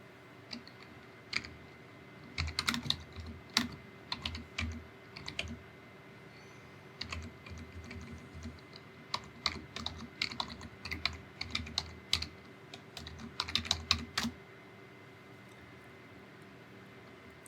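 Rapid bursts of keystrokes on a computer keyboard while entering debugger commands, close and crisp, with irregular pauses between flurries of clicks and no talking.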